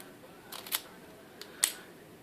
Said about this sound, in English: Oh, multi-lock, shutter lock.